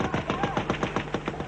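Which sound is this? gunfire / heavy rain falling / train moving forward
gunfire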